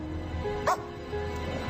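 A dog in the Hindi-dubbed film Alita: Battle Angel gives a single short bark or yip at mid distance over a steady low background drone.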